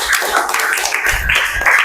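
A school class in an Indonesian teaching-practice lesson claps hands together, a brief burst of brisk, fairly loud applause from many children close by.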